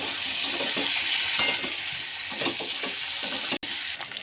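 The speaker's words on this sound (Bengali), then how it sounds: "দুপুরের জন্য কষানো হচ্ছে মাংসটা।" Goat meat sautéing in a pan for a lunchtime curry gives a continuous close, bright sizzle, broken by intermittent scraping stirs and one sharp clack of a utensil near the end, with no voices.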